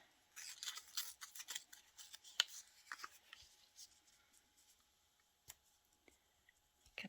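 Paper torn by hand for a small collage on mini rolodex cards, heard as a quiet run of short crisp rips and rustles close up, thinning out into a few sharp isolated tears.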